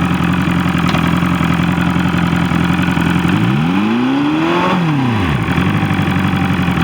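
A boat outboard motor fitted with a new lower unit idles loud and close, then drops into gear as its pitch sweeps up and back down in a brief rev over the steady running drone.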